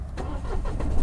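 A Mahindra TUV 300 three-cylinder engine cranks and catches nearby, a short burst of rough, pulsing low-pitched rumble that stays loud throughout.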